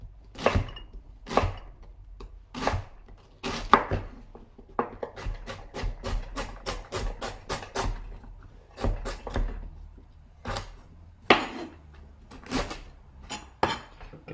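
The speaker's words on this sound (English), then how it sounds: "Okay, so we're gonna slice down our cabbage." White cabbage is sliced with a knife on a board, giving a run of crisp, close chops that speed up into a quick even rhythm before slowing to scattered cuts.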